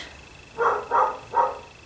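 Dogs barking indoors at home, three loud separate barks in a slow even rhythm against quiet room tone, with no talking.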